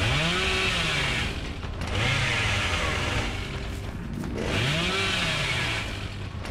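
The Cannibal's revving chainsaw in the game Dead by Daylight roars loud and close, its pitch rising and falling in repeated surges throughout.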